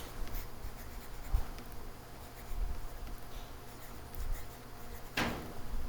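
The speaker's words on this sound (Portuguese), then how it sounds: "Vou escrever aqui" Writing on a board during a math lesson gives soft, close, continuous scratching and tapping strokes, with one sharp knock near the end.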